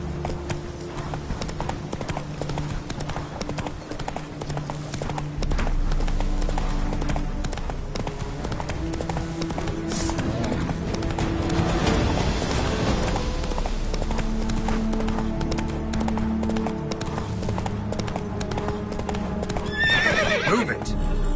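In The Witcher 3, a horse's hooves clip-clop steadily in a continuous gallop, with neighs and game ambience layered over it and someone talking throughout.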